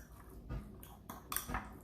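Guacamole is mixed in a bowl with a utensil, producing a few scattered clinks and soft scraping knocks against the dish, close and moderately loud.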